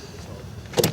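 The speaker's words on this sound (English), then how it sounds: "He's got to take me getting into the car yet again." A car door thuds shut once at the end of a short, quiet moment of a person climbing into a car in a park, with faint shuffling beforehand.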